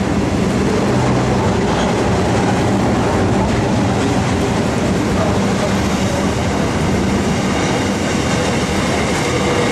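A train runs steadily through a suburban Adelaide station near marshalling yards, a loud, continuous rumble with wheel clatter that holds at close range for the whole stretch.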